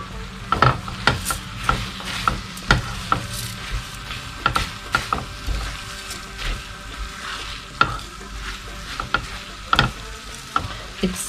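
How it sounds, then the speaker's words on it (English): Bulgur being stirred into frying green pepper and tomato in a pan, steady sizzling under repeated scraping knocks of a spoon against the pan at irregular intervals, close and fairly loud, with no talking. "फिर 300 ग्राम बुलगुर शामिल और मिक्स कर ले."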